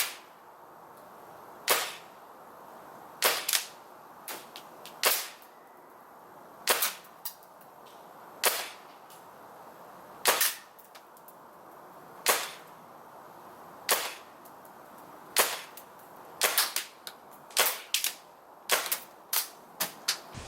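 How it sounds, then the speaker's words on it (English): A CO2-powered airsoft M4 carbine firing 0.20 g BBs through a chronograph: sharp, loud single pops spaced irregularly, sometimes in quick pairs or clusters, with no talking. "let's go ahead and chrono the gun. I'm going to be using .2s, a Crossman CO2 12-gram canister."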